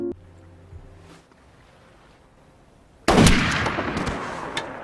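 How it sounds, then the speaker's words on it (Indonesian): A loud burst of gunfire from a film scene erupts suddenly after a quiet stretch, with a sharp attack and a rumbling decay. "Lee ditembak mati."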